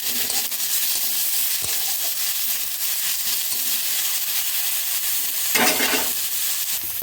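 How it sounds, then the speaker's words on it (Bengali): Chopped onions already fried golden crackle in a pan with ginger-garlic paste while a spatula stirs steadily, a continuous close sizzle with scraping strokes and a louder burst of stirring near the end. "এবার একটু নাড়াচাড়া করে নেবো"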